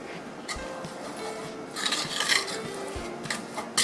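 A utensil stirs and scrapes flour into melted butter in a metal pot for a potato cheese soup. Irregular scraping and clinking strokes come close up, with a busier stretch in the middle.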